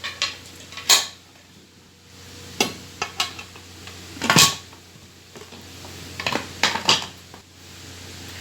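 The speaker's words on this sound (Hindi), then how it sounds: "अब हम इस कुकर को बंद करेंगे।" Several sharp metallic clanks and clicks in a kitchen, spaced irregularly, as a pressure cooker lid is handled and locked onto the pot while cooking chickpeas.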